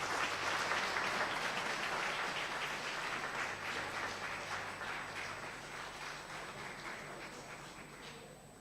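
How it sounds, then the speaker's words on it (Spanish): A church congregation applauds during a Spanish-language sermon, producing a broad wash of clapping that is fairly quiet and distant, strongest at the start and slowly fading over several seconds. "Démosle un aplauso al Señor."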